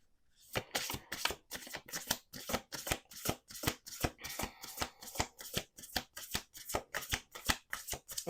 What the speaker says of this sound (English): Okay, I'm going to do a third shuffle.